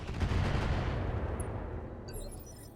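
An Orion mech's weapons firing at an Archer in RogueTech, a loud burst of heavy gunfire-like blasts that rolls off into a fading rumble, with a few faint high tones near the end.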